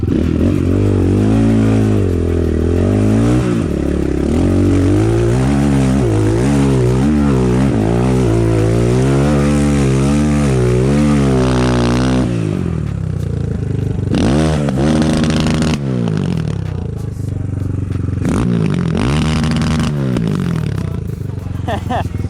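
A BSE 250 enduro motorcycle rides a forest hill, its engine loud and close with repeated revving surges and gear changes for about twelve seconds, then dropping to lower idling and intermittent throttle blips.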